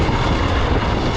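A dirt bike engine rolls along a rocky trail course, a loud, steady, rough drone held without breaks from start to finish and no talking over it.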